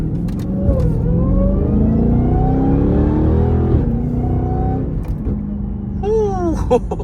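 A tuned Dodge Challenger Redeye in track mode drones loudly from inside the cabin in traffic, its engine pitch rising and falling steadily, with a high supercharger whine climbing near the end.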